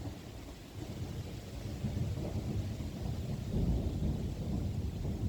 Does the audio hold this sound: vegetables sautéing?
no